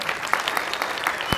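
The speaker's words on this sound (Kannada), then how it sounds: "ಜೋರ್ ಚಪ್ಪಾಳೆ" A crowd claps loudly at a film event for the Kannada movie Pinaka, a brief burst of dense, even applause with a few sharper nearby claps standing out.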